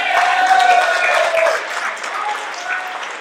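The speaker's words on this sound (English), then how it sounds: "Give them a round of applause" Comedy showcase audience applauding the comedian's parents, a steady wash of clapping that swells briefly and then fades to a lighter patter.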